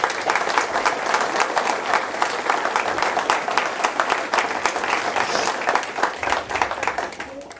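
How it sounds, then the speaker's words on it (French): Audience applause for volunteers at a mayor's New Year's address in Saint-Just, a dense, steady clapping from a large room that stays loud throughout. "Je vous prierai de bien vouloir les applaudir"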